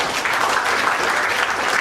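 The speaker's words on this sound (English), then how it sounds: "So can you give a big round of applause" Audience applause at a book introduction event in India, a dense, even wash of many hands clapping that stays loud and steady throughout, close and unbroken.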